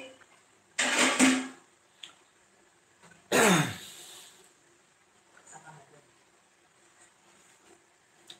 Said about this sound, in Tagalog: Isa na rin ako na inuubo.